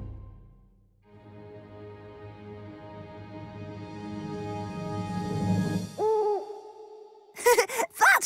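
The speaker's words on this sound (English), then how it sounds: "That's just a dodo owl." A cartoon dodo owl gives a long rising hoot that swells and breaks into a wobbly warble, followed by a couple of short, sharp cartoonish calls at the end, loud and alone.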